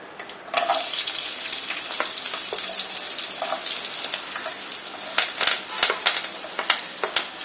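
Sliced onions dropped into a hot pan with cinnamon and cloves for potato kurma, the sizzle bursting on abruptly and holding steady while sharp spoon scrapes and clicks break through.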